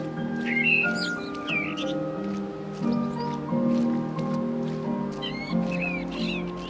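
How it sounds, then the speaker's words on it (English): Scattered high bird chirps from forest trees in Skyrim, in short bursts over a continuous droning musical background. "There's a couple birds in the trees there."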